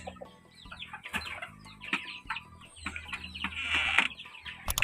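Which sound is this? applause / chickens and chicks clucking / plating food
chickens and chicks clucking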